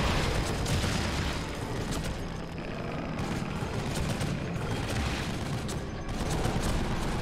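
Heavy gunshots and booming blasts from the survival horror game The Evil Within fill the scene, loud and dense throughout with a few stronger surges at the start and end.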